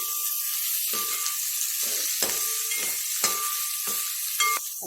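Chopped green chillies and capsicum sizzle steadily in a hot pan, a close, continuous crackling hiss broken by a few soft stirring scrapes, with no voices.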